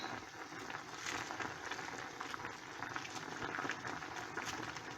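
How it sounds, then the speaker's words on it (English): Pork with vegetables simmers in a pot, a faint, steady bubbling hiss that continues evenly throughout with no voices. "We'll just let it simmer."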